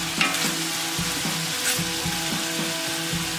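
Pork browns in a pot for pozole with a dense, steady sizzle and crackle, joined by regular low scraping strokes as it is stirred, close and fairly loud.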